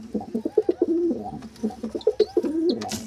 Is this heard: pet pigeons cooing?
yes